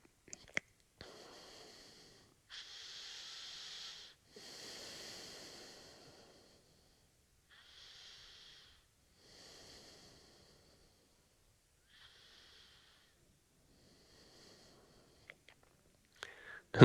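Slow, deep breaths during a yoga session come as several soft, airy inhales and exhales, each lasting a couple of seconds with quiet pauses between, close and faint in a hushed room.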